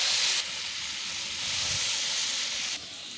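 Onion and chopped garlic dropped into hot oil in a kadai set off a broad, loud hissing sizzle that holds steady for a few seconds before easing slightly, with no voices.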